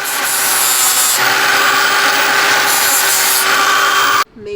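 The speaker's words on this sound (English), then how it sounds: "Today we will be grinding away at Jordy's reinforcement plates" Power tool grinding on metal reinforcement plates, a loud continuous harsh whine and rasp up close for several seconds before it cuts off abruptly.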